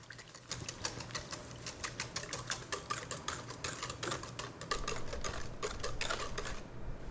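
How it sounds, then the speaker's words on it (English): Olive oil cake batter with eggs and sugar being beaten, a fast, even run of clicking and tapping strokes close by that ends abruptly in near silence. "All right, now we'll mix all this together."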